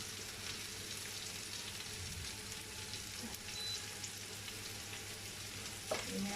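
Potatoes sautéing in olive oil in a pan, a steady soft sizzle and crackle heard close and continuous at low volume, with a small clink near the end and no talking.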